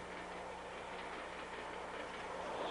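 Passenger train rolling along its rails, a steady rumbling drone with a low constant hum and faint rhythmic clatter, close and continuous with no voices.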